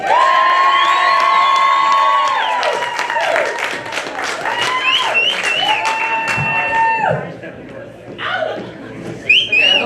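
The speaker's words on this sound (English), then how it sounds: "So make some noise for Sheila Naseby." An audience in a comedy club claps and cheers loudly, with whistles and shouts mixed in, after a performer is introduced. Talk and sustained tones run over the crowd noise.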